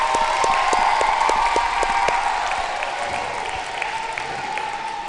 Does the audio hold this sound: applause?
yes